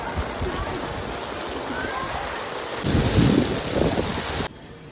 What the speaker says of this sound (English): So it is absolutely pouring.